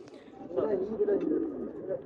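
A khaki pigeon coos softly at close range in a low, rolling murmur, with a faint voice in the background.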